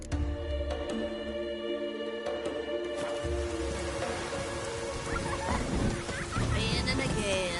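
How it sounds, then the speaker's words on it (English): Steady rainfall in The Witcher 3: Wild Hunt, a continuous hiss of rain with a low rumble, sitting under game music and ambience throughout. "Raining again."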